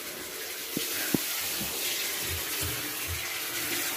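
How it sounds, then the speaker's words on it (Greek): Water runs continuously from a tap into a tub, a steady hissing rush nearby, with a couple of faint knocks early on. "Ο Γιώργος κάνει μπάνιο από ό,τι ακούτε το νερό."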